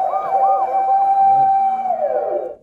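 An emergency vehicle siren played loud and close as a listening-quiz sound, its wailing tone rising and falling steadily before cutting off at the end.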